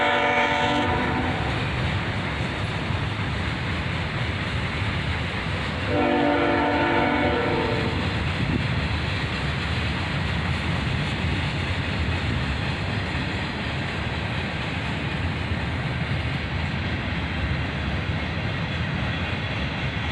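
A CSX freight train led by an ET44AH and an ES44DC locomotive rumbles past close by, with a loud continuous roar and two horn blasts near the start.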